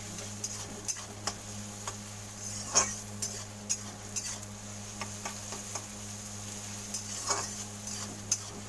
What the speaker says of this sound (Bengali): রসুনটা খুব ভালো করে ভাজা করবো, যতক্ষণ না রসুন গন্ধ যায়